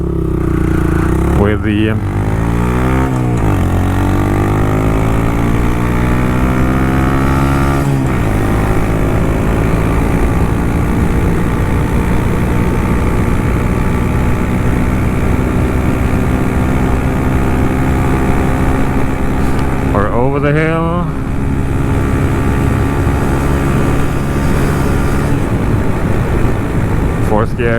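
Honda Monkey motorcycle fitted with an aftermarket exhaust and intake revving hard through the gears on a top speed run, a loud continuous engine drone with pitch climbing and dropping at gear shifts, heavy wind noise, and a rider talking over it.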